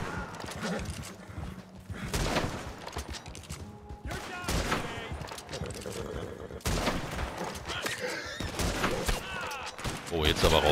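Rapid gunfire in the Red Dead Redemption 2 Online video game, repeated shots in bursts through an ongoing in-game battle, with horse hooves and other game noise around them.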